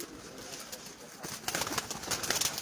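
Pigeons at a loft in Sheikhupura, Pakistan coo softly under faint background noise, with a few soft bursts growing slightly louder and busier in the second half.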